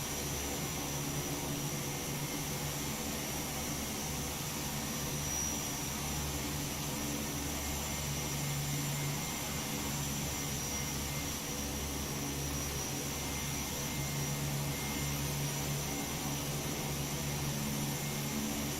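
Steady drone of an airplane engine cruising in flight in the Prepar3D flight simulator game, a constant broadband roar with a faint hum underneath, unchanging and continuous throughout.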